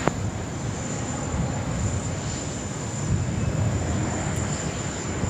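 A Jetstar airliner on flight 913 in special livery passes at Sydney Airport, heard as a steady broad roar of jet engines with a faint high whine, moderately loud and continuous throughout.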